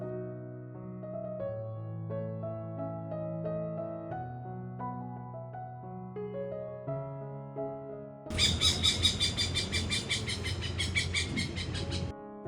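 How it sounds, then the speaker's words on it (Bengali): Great hornbills call in the morning at a homestay courtyard near Kaziranga National Park, Assam: a burst of loud, harsh, rhythmic calls breaks in after a stretch of music. "শুনলেন ডাকটা? হ্যাঁ, গ্রেট হর্নবিল বা ধনেশ পাখির।"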